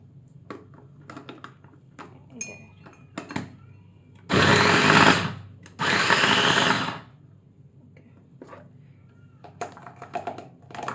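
A capsule cutter machine whirs loudly in two sustained bursts of about a second each, close by, between quieter clicks and handling noises.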